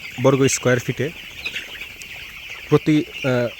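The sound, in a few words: broiler chickens clucking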